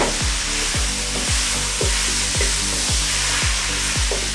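Mushrooms, pepperoni rings, olive salsa and green salsa sizzle loudly in a frying pan for a breakfast burrito, with steady, even scraping strokes from the stirring utensil repeating about twice a second. No one speaks.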